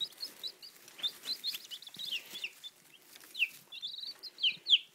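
Cornish Rock, Red Sex Link and Brown Leghorn chicks huddled together give off a scatter of high, thin peeps and chirps, some soft and some sharper and nearer, in short uneven bursts.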